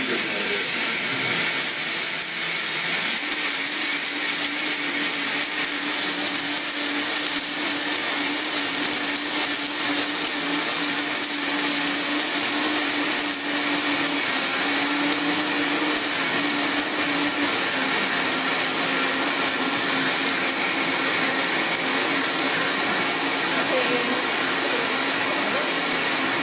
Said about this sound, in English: You want to blend it on a very high speed for about a minute on this blender